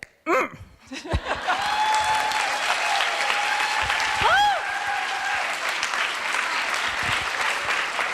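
A presentation audience breaks into sustained, loud applause that fills the room, with whistles, scattered cheers and a few laughs mixed into the dense clapping.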